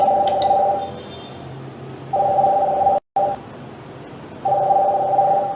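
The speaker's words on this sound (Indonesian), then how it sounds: "Oke, kita jawab telepon dulu." A telephone sounds a repeating two-tone ringing pattern in evenly spaced bursts separated by pauses, clear and fairly loud, with a brief dropout partway through.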